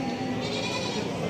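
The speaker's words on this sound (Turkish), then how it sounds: "Bunlar da keçiler." Goats bleat repeatedly at a busy livestock market in Barda, their calls layered over a steady, crowded background hum.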